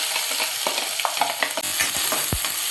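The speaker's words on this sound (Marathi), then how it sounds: "आता मी 2 कांदे घेतले आहेत, ते मी ॲड करते आहे." Onions going into a hot pan of cumin and curry leaves for kanda-batate poha, giving a steady fry with scattered crackles and stirring clinks, a clear thump near the end, and no talk.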